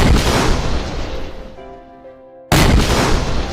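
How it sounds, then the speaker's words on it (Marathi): A heavy, rumbling boom of cannon fire fades into a ringing tail, then a second loud blast hits abruptly. "विशाळगडावरून तोफेचे आवाज घुमले."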